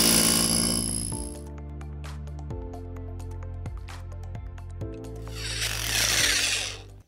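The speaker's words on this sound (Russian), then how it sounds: "Он гораздо легче и удобнее, чем предыдущий перфоратор." A Resanta electric rotary hammer drill runs in a bathhouse being fitted with underfloor heating, a loud motor whine that shifts pitch in steps as the tool is throttled, with a rattling burst near the end.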